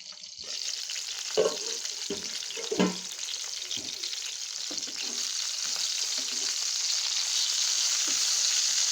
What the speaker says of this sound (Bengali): দেখুন, হয়ে গেছে আমার বেগুন ভাজা।